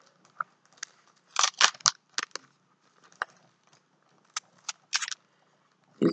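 Sparkly gift wrapping paper being torn and unwrapped for a birthday present, irregular crisp crackles and rips in bursts with pauses, close and alone.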